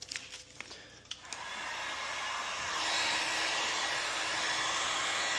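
Steady, close rush of a heat gun warming tint film along the edges of a 2019-or-later Chevrolet Silverado taillight, starting after a few handling clicks and holding a constant whoosh to the end.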